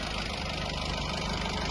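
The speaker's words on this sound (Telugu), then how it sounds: "సైలెంట్ ఉంది ఇంజన్ కూడా." A 2014 Honda City diesel with manual transmission idles nearby, giving a steady low, even engine hum with a faint regular knock and no voices.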